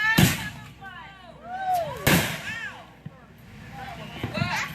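Fourth of July fireworks crack and boom in two sharp bursts, each followed by descending whistling streaks and crackle, with a smaller pop later on and voices talking in between.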